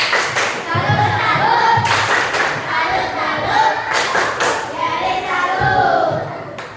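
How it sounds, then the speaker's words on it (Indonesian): Schoolchildren in a primary class performing the tepuk salut clapping routine, rhythmic patterned claps and thumps in time, with children's voices chanting along throughout. "Bapak pengen kalian mengapresiasi diri kalian dulu. Tepuk salut."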